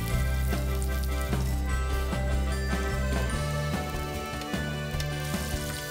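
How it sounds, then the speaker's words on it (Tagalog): Galunggong fish frying in hot oil in a pan, giving a steady loud sizzle with crackling and popping throughout, while music plays along underneath. "let us heat the oil and put the fish in the pan"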